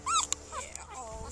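A puppy being handed over by a police officer whimpers and yips in several short, high-pitched, wavering cries close by, with brief pauses between them.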